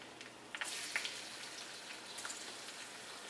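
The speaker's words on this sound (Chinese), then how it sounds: "当油八成热的时候，我们首先加入葱姜蒜爆香" Scallion, ginger and garlic sizzle in hot oil in a wok, a faint steady crackling hiss with scattered pops, heard alone for a few seconds.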